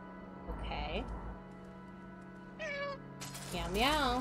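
Several drawn-out cat meows from the video game Stray sound one after another, close and clear, with brief gaps between them over a low steady hum.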